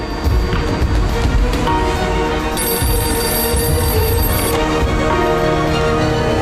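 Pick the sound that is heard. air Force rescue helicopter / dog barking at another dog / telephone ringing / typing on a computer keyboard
telephone ringing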